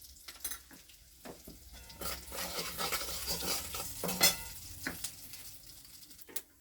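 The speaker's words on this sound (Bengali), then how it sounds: "আলুটা ভাজা হয়ে গেছে, তেলের মধ্যে একটু গোটা জিরে দিলাম।" Whole cumin seeds drop into hot oil left from frying potatoes, giving a soft sizzle broken by intermittent stirring and scraping, fairly quiet overall.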